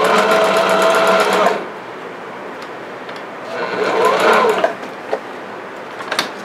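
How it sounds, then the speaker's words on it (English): A sewing machine back stitches elastic onto a ruffle skirt, running in a steady close burst for about a second and a half, then pausing before a second shorter run, with a few faint clicks after. "I'm gonna back stitch and then go over it one more time."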